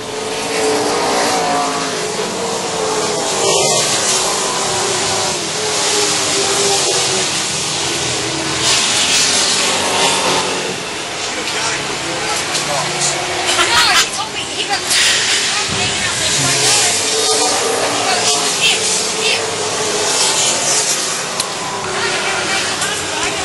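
Pro touring race trucks in a 50-lap Fast Truck Pro Touring Series event on an oval track at Charlotte, with loud, continuous engine roar that rises and falls as they pass, under a commentator's steady play-by-play.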